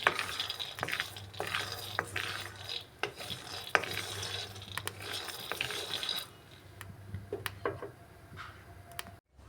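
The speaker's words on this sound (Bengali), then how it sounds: "এইভাবে নাড়িয়ে বাদামগুলোকে সুন্দর করে ভেজে নিতে হবে" Peanuts frying in a karahi, stirred round with repeated scraping and clattering strokes over a low steady sizzle, close and fairly quiet, with no voices.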